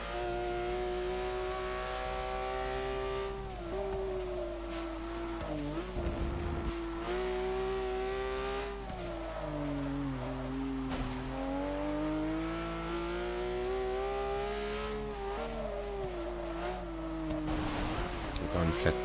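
Porsche racing car in the Forza Motorsport 6 video game, its engine revving continuously with pitch rising and falling through gear changes and corners, steady and prominent, with occasional brief dips.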